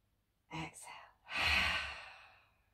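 A breath is drawn in briefly, then a long, audible exhale follows through the mouth during an intermediate vinyasa yoga session at home, close and clear against a quiet room.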